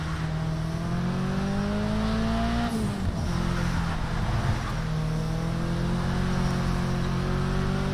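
Gravitas race car in the Project Cars 3 racing game, its engine droning steadily and loud, the pitch dipping and wavering as the car slides mid-drive before settling back to a constant roar; no talking.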